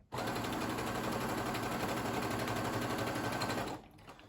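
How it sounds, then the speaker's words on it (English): A sewing machine stitches a square pillow, running in one steady, fast, close mechanical whir for nearly four seconds before stopping abruptly. "And then we're going to start sewing."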